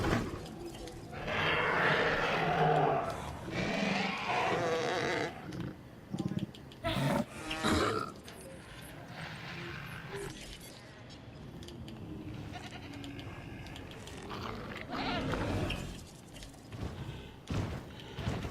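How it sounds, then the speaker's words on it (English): Goats bleat in the video game Jurassic World Evolution, several calls in uneven bursts over a busy game soundscape with intermittent thumps, moderately loud and fairly close throughout. "surrounded by goats."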